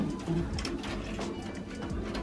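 Dark check racing pigeon cooing softly in a loft, repeated low throaty coos over a busy background of other birds, moderately close and quiet.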